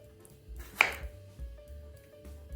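A kitchen knife makes a single sharp chop through a tomato on a cutting board while green and brown tomatoes are prepared for salad. The close, crisp knock stands alone against quiet room noise.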